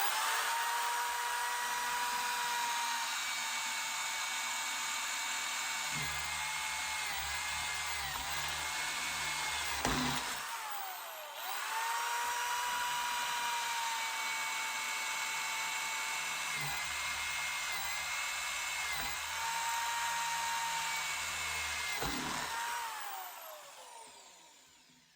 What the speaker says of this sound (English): I'm just going to drill straight down into this,